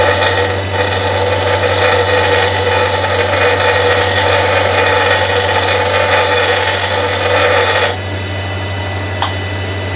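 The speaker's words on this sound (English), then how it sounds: "I'll just put it on the grinder." A bench grinder sharpens a woodturning tool with a steady, close, continuous grinding whine and hum that runs unbroken and then cuts off sharply near the end, leaving a quieter motor drone.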